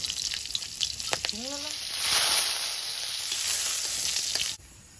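Drumstick leaf greens with chili fry in hot oil, a bright close sizzle that swells after a few knocks and stirring sounds, holding steady before cutting off near the end.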